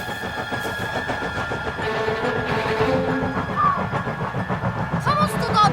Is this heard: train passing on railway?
yes